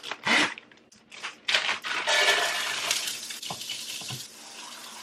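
Shredded carrots drop into a hot pan sprayed with avocado oil, a few clattering bursts giving way to a steady hiss and sizzle that fades gradually.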